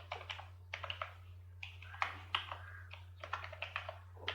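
Someone types code on a computer keyboard in quick, irregular bursts of close, crisp key clicks with short pauses between, over a low steady hum.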